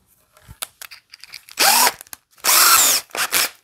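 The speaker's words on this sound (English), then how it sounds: "take four screws out" A power drill backs screws out of the wing of an Aviation Products P-51 pedal plane, sounding two loud, whirring bursts of about half a second each between lighter clicks and handling taps, followed by two shorter spins, close and with no talking.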